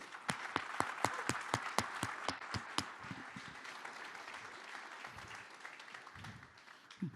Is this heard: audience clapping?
yes